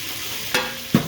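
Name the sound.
frying swordfish pieces in a pan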